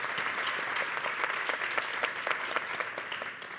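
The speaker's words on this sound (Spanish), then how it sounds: "un aplauso para él" An audience at an opera talk on Gounod's Faust gives the stage director a soft, distant round of applause, a dense steady patter of many hands with no voices over it.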